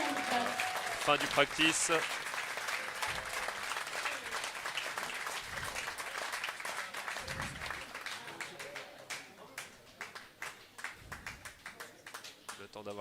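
Applause for the four finalists at a women's bowling tournament in Orléans, a crowd clapping steadily at moderate distance while a voice talks over it, the clapping thinning toward the end.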